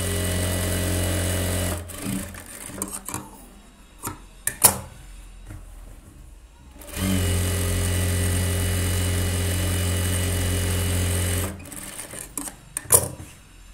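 A sewing machine stitches pattu pavadai fabric in two long, steady whirring runs, with quieter pauses and small clicks of handling between them.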